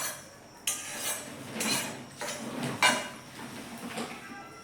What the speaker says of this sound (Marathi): थोडेसे हलके भाजून घेऊया थोडा वास येईपर्यंत